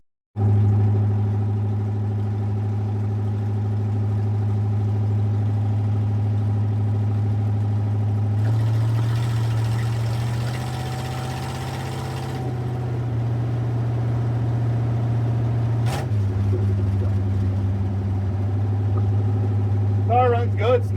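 Car engine running steadily while driving, a constant low drone that shifts pitch midway, with exhaust trouble noted, and a person talking over it.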